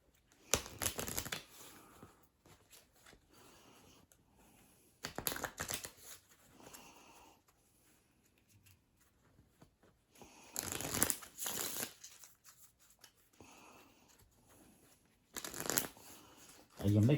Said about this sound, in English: you're going to mix all of these together.